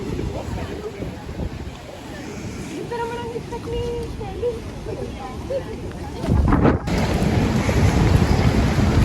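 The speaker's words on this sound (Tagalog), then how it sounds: "Grabe, ang lakas ng alon." Strong sea waves surging against the shore in cold, windy weather in Taiwan, a continuous loud roar with heavy wind buffeting the microphone, swelling louder near the end, while a voice speaks briefly over it.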